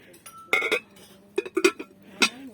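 Glass Borcam casserole pot and its lid handled in a kitchen, giving several close, bright clinks and knocks in short bursts, with a faint voice in the background.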